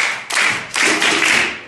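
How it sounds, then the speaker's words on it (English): Schoolchildren in a primary school classroom clap their hands in two short bursts of brisk group clapping, close and fairly loud, separated by a brief pause. "clap for yourself."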